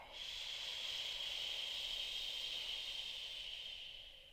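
A single long exhale pushed out as a soft, steady shushing SH sound during a yoga nidra breathing practice, close and even for about four seconds before fading at the end.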